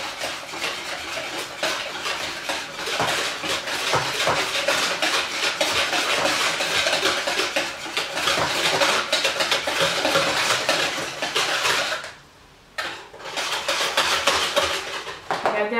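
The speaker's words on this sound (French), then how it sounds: "Je mélange, je mélange, je mélange." A spoon scrapes and knocks rapidly against a bowl while chin chin croquette dough is mixed, making dense, continuous clattering close by that pauses briefly before resuming.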